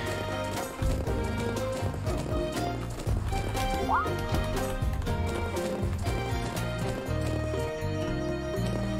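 Rhythmic clip-clop of ice horses' hooves in the video game Legend of Sword and Fairy 5 Prequel, steady and fairly loud, layered over dense game music with a brief whinny-like rising tone.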